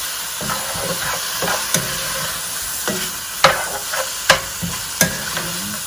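Undrained canned ingredients for veggie nachos are stirred in a sizzling pan, with a steady fry hiss and several sharp scrapes and clacks of the spoon against the pan at irregular intervals, close and clear, with no voices.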